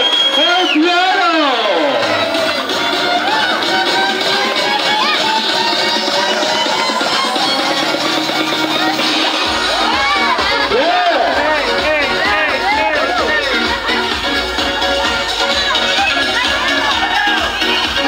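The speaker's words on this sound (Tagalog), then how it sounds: "ang palakpakan na may kasamang sigawan para kay Mr. and Mrs. Gladys and Arjun Orpiano" Wedding guests at a reception cheer and whoop for the newlyweds, a loud, lively crowd noise with shouting voices sustained throughout.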